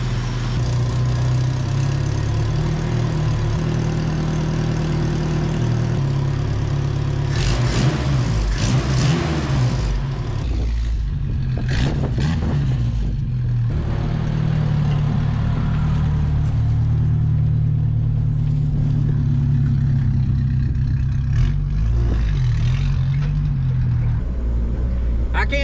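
A 1981 minitruck engine idles and occasionally revs, loud and close, with a steady low rumble throughout and short bursts of higher revving in the middle.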